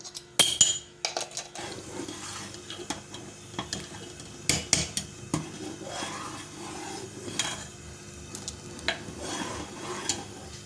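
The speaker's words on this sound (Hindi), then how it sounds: "पहले हम अंडा डाल लेते हैं। थोड़ा घुमाते हैं।" Egg being stirred in a hot pan for a Chinese dish, with a soft sizzle beneath repeated scraping and clinking of a utensil against the metal, uneven bursts close by and no talking.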